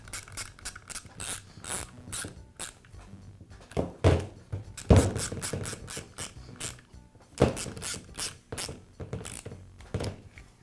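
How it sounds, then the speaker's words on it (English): A shoe slides back into the housing of a Milwaukee reciprocating saw and its screws are tightened, giving a series of close metallic clicks, ratcheting rasps and sharp clunks in irregular bursts. "I'll slide the shoe back into the housing and tighten up the screws"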